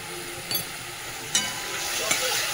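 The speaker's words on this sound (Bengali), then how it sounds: "এই মশলা তো কষাচ্ছি, নুন দিয়ে দিচ্ছি" Spice masala with salt added, frying in a pan with a steady close sizzle and a few brief spatula scrapes standing out over it.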